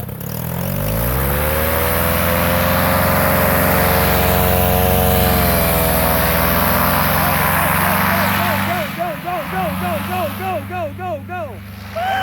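A powered paraglider engine drones steadily and loudly at quarter throttle during ground training in Florida, its harmonic tone holding through the run before the pitch wavers and pulses near the end. A voice talks over it.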